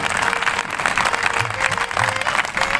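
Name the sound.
applause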